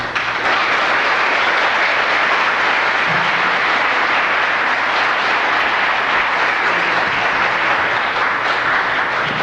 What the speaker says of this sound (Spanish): un aplauso fuerte para despedir a nuestro querido amigo y hermano William Soto Santiago